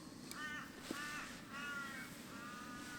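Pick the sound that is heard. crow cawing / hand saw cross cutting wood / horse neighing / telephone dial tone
crow cawing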